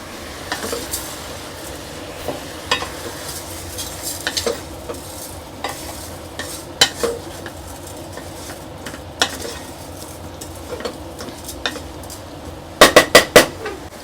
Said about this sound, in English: We're just going to saute everything for a few minutes, but we don't want to burn it